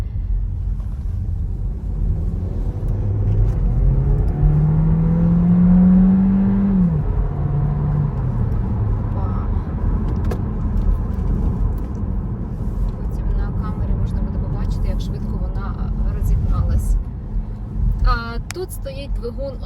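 A 2024 Skoda Karoq Sportline with a 1.4-litre engine revs up with rising pitch as it accelerates, then shifts and continues under road rumble and wind noise, with a voice talking over it.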